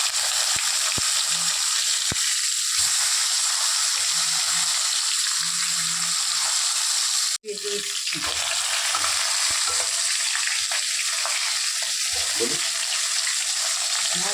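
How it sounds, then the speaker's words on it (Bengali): Pomfret pieces frying in hot oil for a Bengali fish curry with eggplant, a steady close sizzle throughout with occasional clinks and stirring scrapes, no talking. "পায়রা তেলে মাছ ভালো করে ভেজে নেব"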